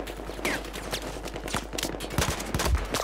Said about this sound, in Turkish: Abo tank sıkıyormuş bana.